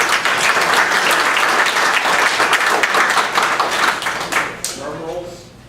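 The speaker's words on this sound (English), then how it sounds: "So a big, great round of applause for those guys." An audience at a Lions Club officers' installation claps in a loud, dense burst of applause that fades toward the end as a voice begins speaking.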